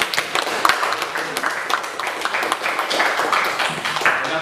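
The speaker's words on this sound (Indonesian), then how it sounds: "Oke, tepuk tangan." A classroom group applauds with scattered, uneven hand claps, moderately close, with a few voices mixed in under the clapping.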